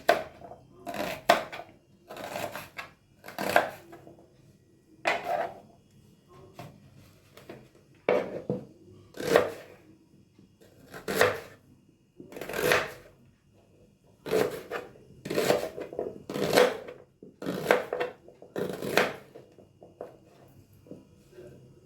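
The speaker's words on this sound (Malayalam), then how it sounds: "ഇങ്ങനെ 3 പീസാക്കിയിട്ട് കുറച്ച് വലിപ്പത്തിലാണ് ഉള്ളി കട്ട് ചെയ്യണം." A knife chops onion on a cutting board, cutting it into fairly large pieces for an okra stir-fry. About eighteen crisp, close knocks come in an uneven rhythm, some closely paired, with short pauses between them and no talking.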